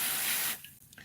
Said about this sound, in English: we can freeze it with a bit of freezer spray here